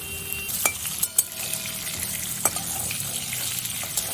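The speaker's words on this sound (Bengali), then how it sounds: "তেলের মধ্যে এখন আমি আলুগুলো সব ভালো করে ভেজে নেব" Potato pieces fry in hot oil for a fish curry, a continuous crackling sizzle close up, punctuated by a few sharp clinks of a utensil stirring against the pan.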